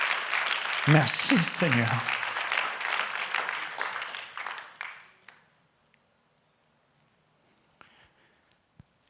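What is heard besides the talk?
congregation applauding and acclaiming Jesus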